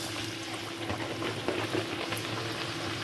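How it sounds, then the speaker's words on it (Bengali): Pitha cakes dropped into hot oil fry with a steady, dense sizzle and bubbling that stays close and even throughout, with no voice over it. "তেলটা আমার গরম হয়ে গেছে আমি পিঠাগুলো দিয়ে দিলাম"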